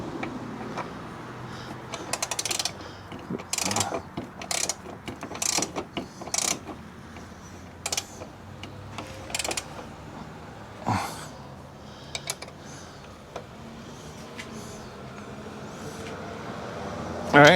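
A hand wrench works a bolt on a Jeep Wrangler hood latch, giving bursts of close ratcheting clicks and metallic clatter, with pauses and faint talk between strokes.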